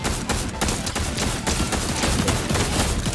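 Gunfire in the Fortnite video game: loud, rapid bursts of shots cracking in quick succession, dense and continuous with no pauses.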